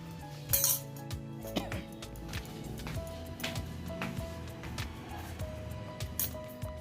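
A spoon clinks against dishes in a home kitchen, with several light, bright clinks and taps scattered over a low household background.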